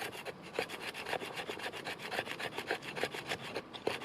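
A RAIDOPS Soldier Spirit knife blade carves a piece of plum hardwood, making a quiet, steady series of rasping scrapes in a regular back-and-forth rhythm, close up with no voices.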